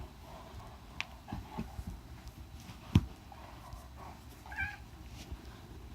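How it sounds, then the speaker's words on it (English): A house cat in a home meows a few times toward a dog, short faint cries over quiet room noise with a soft thump and shuffling nearby. "there goes the cat. He's talking to the dog."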